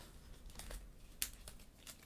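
Board game cards being shuffled during a solo tabletop session, heard as quiet papery riffles and crinkles with one sharper snap midway, close and alone without talk.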